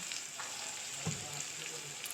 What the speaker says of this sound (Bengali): ভালোভাবে মশলাটা ভাজতে হবে